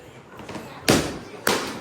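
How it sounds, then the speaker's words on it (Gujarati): Two sharp, loud bursts about half a second apart, firecrackers popping nearby over a noisy background. "ફટાકડા ફૂટવા માંડ્યા છે"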